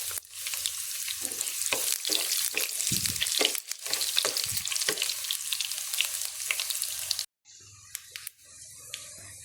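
Three finely chopped garlic cloves hit hot oil already holding mustard seeds for tempered dhal curry, giving a loud, continuous crackling sizzle with sharp spitting pops, then abruptly quieting to a softer hiss near the end.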